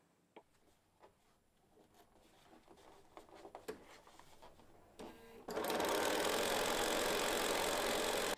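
A sewing machine stitches elastic onto underwear with a wide stitch, starting with slow, separate needle clicks that build up and then break into a loud, fast, steady whir for the last few seconds.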